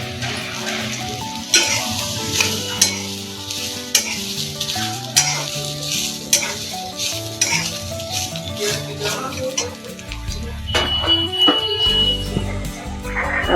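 Garam masala being stirred into egg gravy frying in a pan: steady sizzling with repeated scraping stir strokes, close and loud throughout, no talking.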